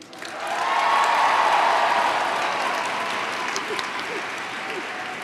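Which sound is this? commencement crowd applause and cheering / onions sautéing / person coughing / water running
commencement crowd applause and cheering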